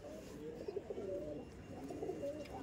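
Andhra pigeons, adult birds offered for sale, coo in soft repeated low calls close by over a steady background murmur, with no clear talk.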